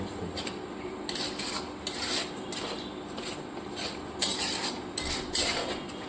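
Chicken masala being stir-fried without oil in a pan, heard as repeated scraping and rasping spoon strokes against the metal in an uneven rhythm, fairly quiet and close, with no talking.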